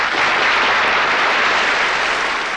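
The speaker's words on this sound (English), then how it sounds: "At party rallies, the applause appeared to confirm him as the unquestioned leader of the new Russia." Thunderous, dense applause from a large crowd at a Stalin-era party rally in Russia, a steady unbroken roar of many hands that holds at full strength throughout with no voices standing out.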